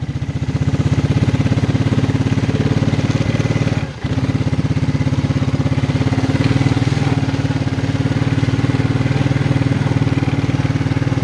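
A 1992 Suzuki Quadrunner 300 ATV engine runs steadily after months of sitting, a loud, close, throbbing single-cylinder putter with one brief dip partway through and no speech.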